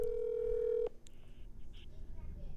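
A phone call goes out from a podcast setting: a steady dial tone, then a few faint beeps and tones from the line, with low background noise throughout.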